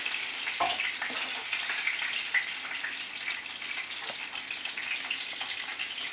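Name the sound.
chicken frying in olive oil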